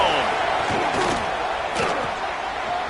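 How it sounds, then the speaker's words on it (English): Stadium crowd at an American football game roaring loudly and continuously, a dense wall of cheering with a few sharper shouts rising above it. "This crowd ready to make its presence known."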